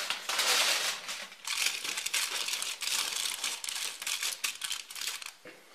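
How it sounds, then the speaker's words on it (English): Tin foil crinkles and crushes continuously onto a kitchen oven rack, a dense, close, crackling rustle lasting several seconds with no talking. "So now place a tin foil on the right side of the rack"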